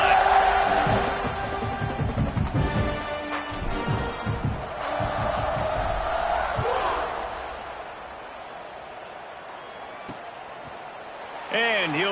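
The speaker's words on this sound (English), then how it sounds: "this crowd is feeling themselves after that last drive" A football stadium crowd roars and cheers after a touchdown drive, a broad, dense wash of voices that swells early and gradually settles, with a commentator's voice talking over it.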